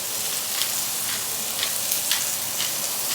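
Meat for birria tacos seared in a hot pan, a steady close sizzle and crackle with faint periodic ticks, alone without voices.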